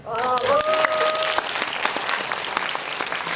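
An audience in a cinema hall applauds at a Korean film premiere screening with the director and cast present, brisk dense clapping throughout while a few voices briefly cry out near the start.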